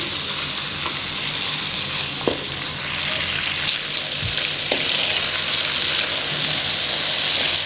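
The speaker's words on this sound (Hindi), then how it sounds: "अब जस्ट 2 से 3 मिनट के लिए हम इसे अरवी को इस गोश्त में, इस मसाले में भून लेंगे।" Taro root and beef frying in masala in a pan, giving a loud, dense, continuous sizzle with a few clinks and scrapes of stirring, and no talk over it.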